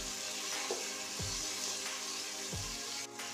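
Vegetables sizzle steadily in a pan for fenugreek-leaf methi pulao, with a constant frying hiss and two low thuds from stirring or tossing, close and without talk.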